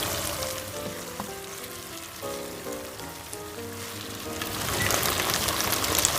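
Dried tuyo fish frying in a pan over low heat, a steady soft sizzle with crackling that grows louder toward the end, alongside faint background tones.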